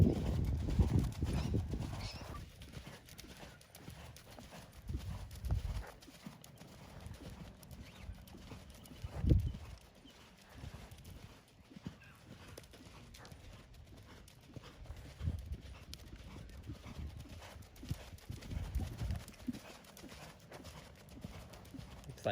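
Hooves of the horse Murphy cantering during dressage schooling, a steady three-beat clip-clop with a few louder thuds, moderately near, under faint occasional talk.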